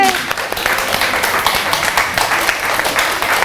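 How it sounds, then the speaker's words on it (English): Applause breaks out at a children's museum Christmas event for the museum's executive director, an even patter of clapping hands with a cheerful voice speaking over it. "Big round of applause."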